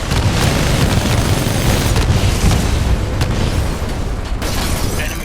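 Titan weapons in Titanfall 2 fire amid continuous loud booms and blasts, a dense, roaring battle barrage with no speech.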